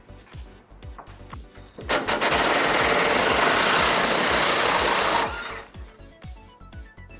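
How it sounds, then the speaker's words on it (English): A power tool with an 18mm socket removing a rear frame bolt on the driver's side of a 2000 Ford Ranger during a hitch install, a loud, harsh buzzing whir lasting about three seconds between quieter clanking moments. "On the driver's side, we're going to remove this bolt towards the rear of our frame using an 18mm socket."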